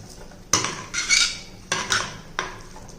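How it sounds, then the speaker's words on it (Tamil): A metal lid goes onto a pot of diet biryani, three sharp clanks each followed by a brief scraping rattle as it settles, close and with no voices. "இதை இப்போ வந்து நம்ம மூடி போட்டுருவோம்"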